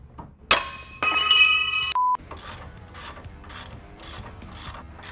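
Quick ratchet clicks in a steady rhythm while loosening the factory 13/16 tie rod end nuts on a Ram 2500/3500 truck, following a burst of clinking metallic tool noise, close and fairly loud with no talking.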